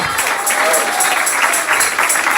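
A church congregation claps during a Spanish-language worship service, a dense, steady wash of hands with a faint rhythmic pulse, sustained for the whole stretch while a voice carries faintly underneath.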